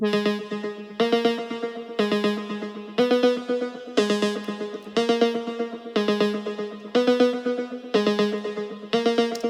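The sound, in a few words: synthesizer main melody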